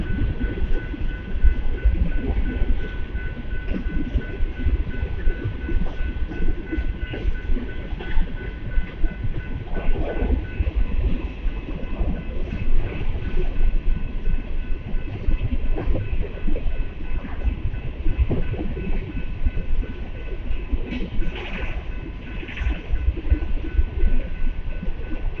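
A northbound Union Pacific mixed freight train passes at a street crossing in Austin, Texas, with a steady rumble and rhythmic wheel clatter over the rails that continues throughout.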